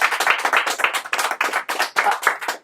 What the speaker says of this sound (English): If we can give Phil a round of applause, he deserves it